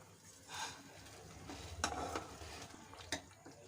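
Toasted rice tipped into a pot of boiling water for mushroom biryani, giving faint scattered sloshing and scraping bursts over a low simmer, with no voices.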